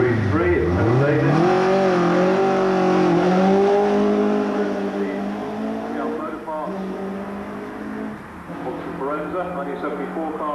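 A 1974 Forenza race car with a Bill Blydenstein 2.5 litre 16-valve engine accelerates hard at the Brighton Speed Trials, a loud sustained rising engine drone with gear changes, under a commentator's voice.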